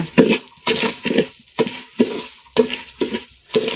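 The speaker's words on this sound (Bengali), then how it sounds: "এই আতপ চালটা এখন ভেজে নেওয়া হচ্ছে" Atap rice grains are stirred and fried in hot oil in a pan for chicken biryani, with rhythmic scraping strokes and sizzling bursts that repeat about every half second, close and clear.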